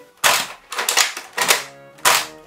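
Sharp plastic clacks and snaps from a Nerf Longstrike sniper-style blaster with a manual magazine, firing and being handled nearby. There are about four loud, separate hits with short gaps between them.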